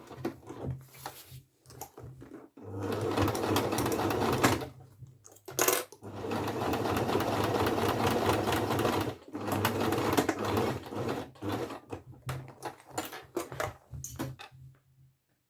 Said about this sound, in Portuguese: agora é só fazer aqui uma costurinha